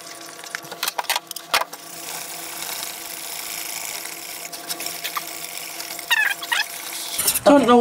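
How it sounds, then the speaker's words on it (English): A whisk scrapes and clicks through an egg, flour, sugar and cornstarch mixture in a bowl, close by, in uneven bursts of rubbing and tapping over a steady background hum. "I don't know what makes a whisk better at stirring than a spoon"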